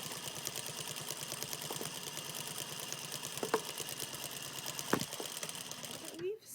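A domestic sewing machine stitches the center front seams of a fabric face mask, a steady fast mechanical whir with rapid needle ticking, close and continuous, with a couple of brief clicks and a short rising whine at the end.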